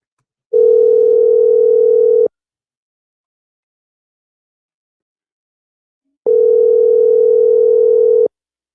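Two loud, steady telephone ringback tones, each about two seconds long, separated by roughly four seconds of silence as a call rings out.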